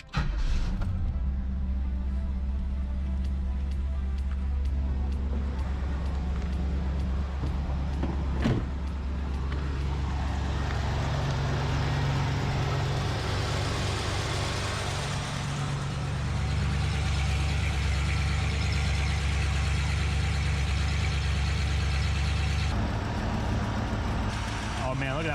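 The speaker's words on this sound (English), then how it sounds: "and then I just drove it around to mix that fluid up" A 33-year-old Pontiac Trans Am being driven after a transmission fluid and filter change, with a loud continuous engine hum and road rumble that shifts in pitch as it changes speed, under occasional talk.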